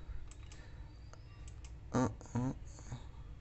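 Computer mouse clicks during an online CTET mock test, a few short faint clicks scattered over a low room hiss, with two brief louder voiced sounds in the middle.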